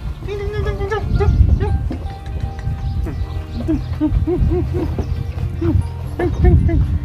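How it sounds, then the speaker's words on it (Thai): Baby goats playing on a farm in rural northeastern Thailand, repeated short bleats scattered across the scene alongside light hoof clatter, with someone talking over them nearby. "ตอนนี้แพะกำลังเล่นกันอยู่นะครับ"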